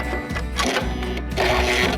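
A sewing machine stitches a hem on fabric, running in a steady mechanical whir and rattle close by, loud and continuous with slight changes in pace.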